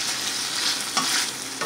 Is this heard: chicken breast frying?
yes